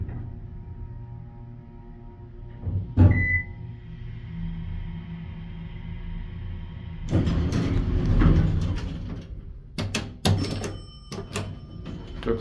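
A Casper hydraulic elevator door in Ramsey, New Jersey slides shut with a rising rush of mechanical noise, then a few sharp knocks and clunks. A steady background hum runs throughout.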